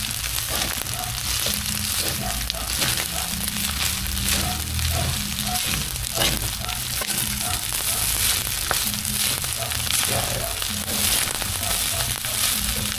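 Leftover fried rice (chao fan) sizzles and crackles steadily in a hot pan while being stirred slowly. The frying stays loud and even throughout, with scraping from the stirring mixed in.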